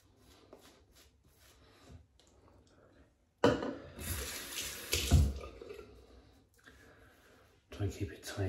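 Tap water runs into a sink while a man lathers up for a wet shave, a bright rushing burst that swells and fades over several seconds after a quieter stretch where someone talks.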